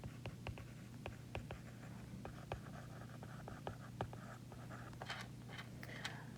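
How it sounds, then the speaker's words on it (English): Marker or chalk writing on a classroom board, a run of quick scratchy strokes and taps in short bursts over a steady low hum, with no voices. "I'm going to write that down here"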